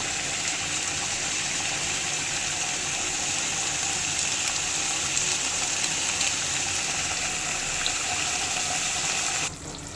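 Bengali prawn malai curry (chingri malai) simmering in a pan gives a steady, even hiss of bubbling liquid that runs unbroken for the whole stretch, fairly close and with no voices.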